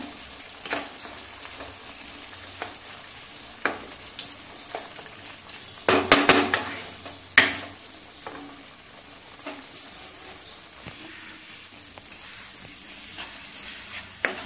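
Ground moong dal paste cooking in a pan for halwa, a soft steady sizzle broken by intermittent scraping stirs and a brief busier burst of clattering strokes, close, with no talking.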